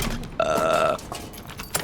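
A loud, drawn-out burp done on command, a single belch of about half a second rising out of background chatter, followed by more low talk.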